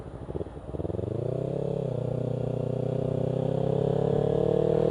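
A Kawasaki Ninja 300 motorcycle engine while riding, first a choppy low idle and then a smooth, rising, sustained drone as the bike pulls away and holds speed.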